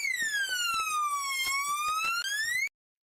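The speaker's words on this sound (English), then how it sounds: "What kind of alarm goes off, like, just because you walk up to the door?" Electronic alarm at the door of a family house, captured on a body camera: a loud, continuous siren-like wail that sweeps down and back up in pitch, sounding steadily for nearly three seconds before cutting off abruptly.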